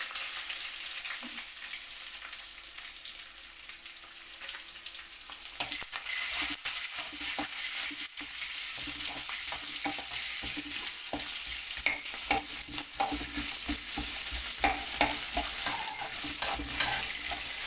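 Onions fry in a pan for bitter gourd fry, sizzling steadily and loudly throughout, with a spoon scraping and stirring in repeated strokes.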